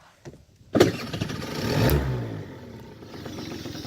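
A small scooter engine cranks on its electric starter with a sharp click and catches, then settles into a steady idle with a faint rattle.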